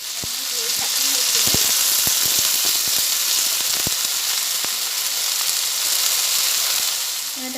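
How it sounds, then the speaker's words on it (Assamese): Panch phoron spices sizzle and crackle in a hot kadai, with a steady frying hiss and scattered sharp pops from the seeds throughout, close and fairly loud. "এফালে কেৰাহী বহাই থৈছোঁ, গৰম হৈ গৈছে। মই পাঁচফোৰণখিনি দি দিলোঁ।"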